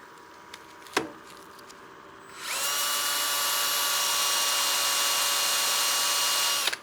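A wooden bowl spins on a lathe while 320-grit sandpaper is pressed to it, a steady whirring hiss that starts after a couple of seconds, runs evenly and cuts off, preceded by a sharp tap.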